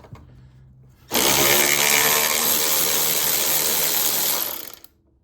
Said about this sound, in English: we're gonna move the sway bar end link, and this is just held on by a 13 millimeter bolt and nut on both sides.